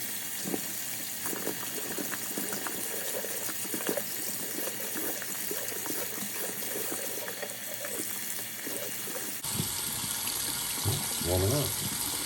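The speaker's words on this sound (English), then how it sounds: "see if there's hot water coming out" Tap running after a new water heater was fitted, a continuous rushing gush of water close by, with brief talk near the end.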